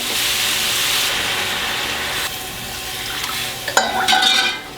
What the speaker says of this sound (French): À ce stade-là, je déglace. Louche, fond.